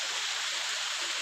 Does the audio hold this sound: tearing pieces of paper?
no